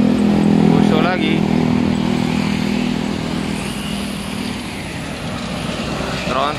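A Hino tronton heavy truck passes on the road, its loud diesel engine roaring close by and then slowly fading as it moves away, with someone talking over it.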